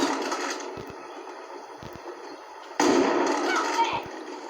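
Sniper rifle shots in a hunting video game, several sharp cracks at irregular intervals against soft background noise, with a louder burst near the end.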